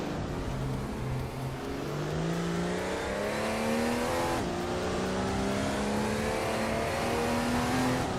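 Race cars racing in a video game, engines revving and climbing in pitch through gear changes, several cars roaring together in a continuous loud drone with no voices.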